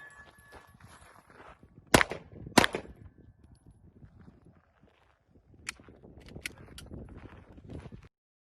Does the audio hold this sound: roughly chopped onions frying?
no